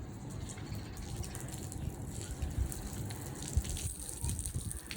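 Water is poured out over a rooftop floor, a continuous gushing splash that stays steady and fairly loud throughout, with faint rattles mixed in.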